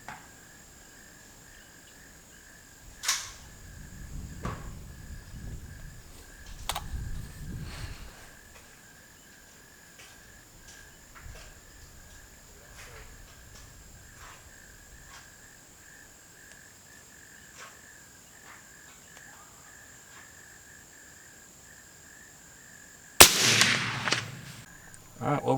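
A Henry Supreme .300 BLK rifle fires one sharp, loud shot near the end, over a steady outdoor background of insect chirping and faint earlier thumps.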